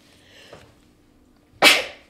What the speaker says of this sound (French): Je vais éternuer, je pense.